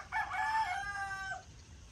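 A single rooster crows once, a clear rising and falling call, slightly distant, with no talking.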